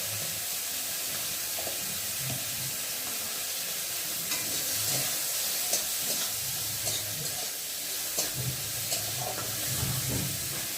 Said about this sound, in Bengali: চিংড়ি মাছটা ভাজা ভাজা হবে ততক্ষণ